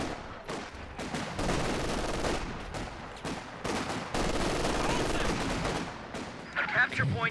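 Machine gun fire in a Company of Heroes 2 match, heard as rattling bursts of automatic gunfire mixed with other battlefield shots and blasts throughout.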